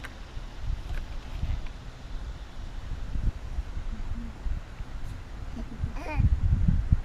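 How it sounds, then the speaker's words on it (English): Steady wind buffets the microphone outdoors at an archery range, a low, continuous rumble with gusts that swell louder toward the end. "It's kind of windy out here."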